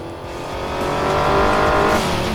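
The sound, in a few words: car driving in video game Crash Time 5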